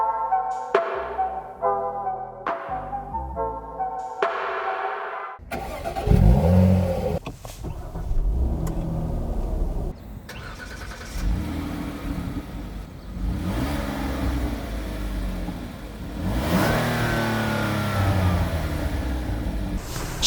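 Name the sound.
2012 Grandeur 3.0 gasoline car engine starting and running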